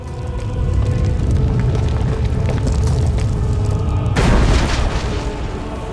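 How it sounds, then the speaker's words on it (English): A temple crumbles amid explosions in the Star Wars: The Old Republic video game, a deep sustained rumble with a heavy boom surging in partway through, loud and close with no talk. "The temple is coming apart."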